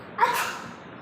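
A child sneezes once, a short bright burst that is close and fairly loud and fades quickly, with no talking over it.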